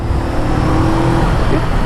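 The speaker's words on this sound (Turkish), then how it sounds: "Motosikletin devrini ve sesini dinlemem benim için yeterli." Close, loud motorcycle engine held at high revs while accelerating in traffic, a continuous throaty drone with a sustained pitch and slight swells, no voices over it.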